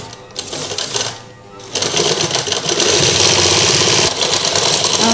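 An electric sewing machine stitches a fitting seam on a kurti, starting with short bursts and a brief pause, then running in a loud, fast continuous whir with a rapid needle rattle.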